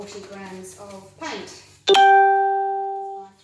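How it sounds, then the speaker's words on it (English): A phone notification chime rings out loud and close as a sharp two-note ding with a long ringing tail, right after a voice talks about measuring paint for acrylic pouring. "I must remember to turn the notifications off next time."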